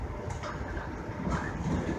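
Inside a moving passenger train, a soft steady rumble of the carriage fills the background with faint rattles and low rolling noise, quiet and continuous.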